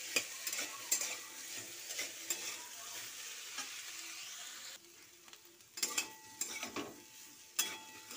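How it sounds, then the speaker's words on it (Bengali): Food frying in a pan with dried red chillies in a little oil, stirred with a spatula: steady sizzle under repeated scraping and clattering strokes, close and moderately loud, with no talking. "এরকম নেড়ে দিতে হবে, ভাজা এখনো হয়নি যদিও"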